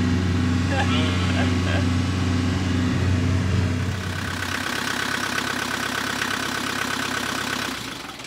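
A car engine drones under a moving cabin during a test drive, low and steady, with people talking over it. The engine note drops partway through and fades near the end.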